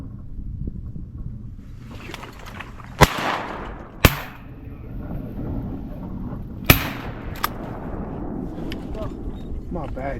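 Gunshots during a Midwest duck and deer hunt: several sharp, loud cracks, the clearest at about 3, 4 and 7 seconds, ring out over steady outdoor background noise and light talk.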